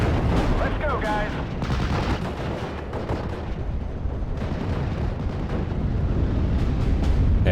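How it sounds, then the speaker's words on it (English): Battlefield artillery fire in the WWII Normandy strategy game Steel Division: Normandy 44, dense rumbling booms and gunfire crackle rolling continuously, loud and layered, with faint game radio chatter in the mix. "the artillery's come down there"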